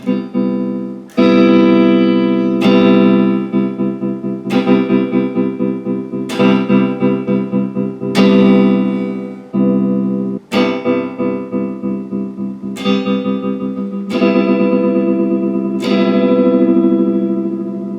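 A guitar plays slow, sustained chords through an Ernie Ball Expression Tremolo pedal, a pulsing tremolo with a wash of reverb, each new chord struck roughly every two seconds.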